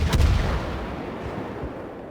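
Warship naval gun firing in a naval combat game, one heavy boom at the start rolling into a long low rumble that slowly fades.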